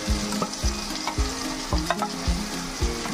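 Ginger-garlic paste fries with onion, tomato and spices in a pan, a dense close sizzle broken by rhythmic spatula scrapes about twice a second, with no voices.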